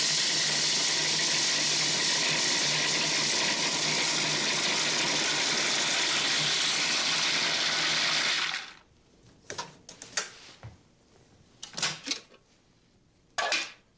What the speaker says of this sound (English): with the motor running, pour the heavy hot cream, the hot and heavy cream